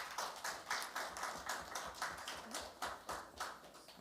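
Faint applause from a small audience at a joint press conference of PAM and CCM party leaders, heard as a steady run of distinct, evenly spaced claps with no talking over them.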